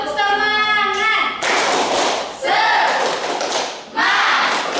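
A classroom of students performs a tepuk semangat cheer, bursts of rapid rhythmic clapping in three loud blocks, opened by a chanted voice and mixed with group shouting.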